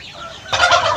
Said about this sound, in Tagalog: So ito no ay medyo marami-rami na rin yung mga manok natin dito.